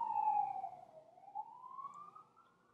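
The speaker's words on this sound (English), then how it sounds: "Sorry, I'm waiting for that siren to pass." A siren wails in the distance as it passes, a faint single tone sliding down and then rising again, heard alone without speech.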